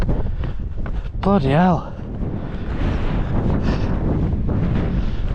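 Heavy wind buffets the microphone on an exposed hilltop on the Coledale Horseshoe fell walk, a loud, steady rumbling roar that continues throughout, with a brief spoken exclamation partway through.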